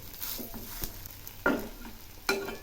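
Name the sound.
stirring taro stem curry in a pan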